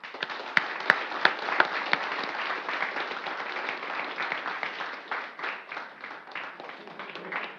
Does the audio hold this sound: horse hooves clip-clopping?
no